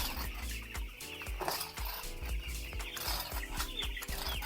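Broiler chicks in a winter brooder keep up a dense, continuous chorus of clucks and cheeps, many overlapping calls repeating close by at a moderate level with no voices.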